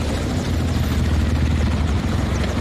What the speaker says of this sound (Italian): L'elicottero ci copri.